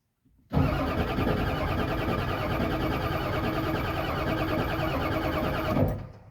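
A Ford F350 pickup's 7.3L IDI diesel engine cranks over loudly and steadily for about five seconds after a brief quiet start, then the churning stops abruptly at the end.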